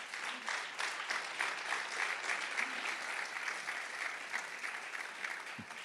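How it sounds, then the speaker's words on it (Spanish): Sustained applause from a church congregation during a sermon, steady dense clapping that fills the whole stretch, with a faint voice underneath. "Démosle un aplauso al Señor"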